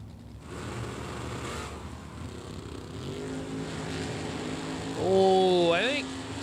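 A 1978 Malibu drag racing car revs its engine at a drag strip, a loud rising rumble that swells sharply near the end, mixed with crowd and commentary noise.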